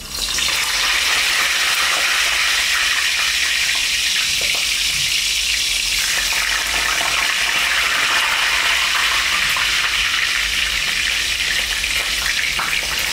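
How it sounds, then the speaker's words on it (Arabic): Pieces of pigeon frying in hot oil, a steady, loud, even sizzle that holds without a break from start to finish. "دي المقطوعه برده هنحمرها"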